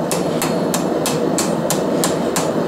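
Cross peen hammer blows ring out on hot steel while a pan handle is forged, a steady series of about eight sharp strikes at even intervals over a constant background hum.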